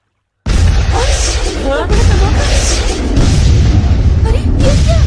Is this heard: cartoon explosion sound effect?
yes